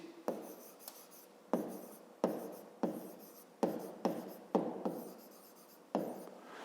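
Pen scratching on paper while a maths solution is written out, a series of short strokes each starting sharply and trailing off, about a dozen in an uneven rhythm, close and quiet, with no talk.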